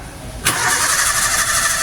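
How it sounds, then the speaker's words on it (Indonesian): Car engine with EFI being cranked by the starter during a tune-up; a steady loud whirring drone kicks in abruptly and holds for over a second, close and alone. "mobil kok di starter namun tidak bisa menyala"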